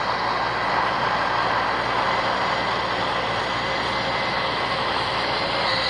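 A C-130 transport aircraft taxiing toward the runway in a video game, heard as a loud, steady, broadband engine drone that holds constant throughout, with no talking.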